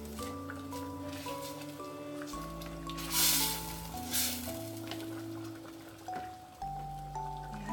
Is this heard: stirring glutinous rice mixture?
yes